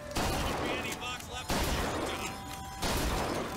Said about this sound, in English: This shotgun is awesome.